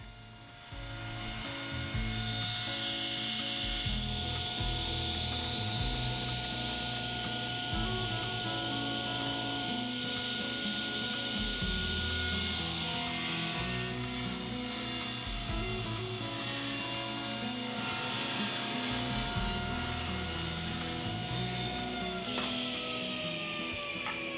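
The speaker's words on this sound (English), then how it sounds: "I'll rip the roundover off the edges of the 2x4 before milling the material to 3/4 of an inch" Power saw ripping and milling 2x4 lumber down to 3/4 inch, a steady loud motor whine with a continuous cutting roar running throughout, close up and uninterrupted, with no talking.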